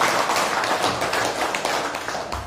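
A crowd at a community outreach meeting on cross-border pass cards claps for a speaker, a fairly loud, continuous patter of hands that holds steady and eases slightly toward the end.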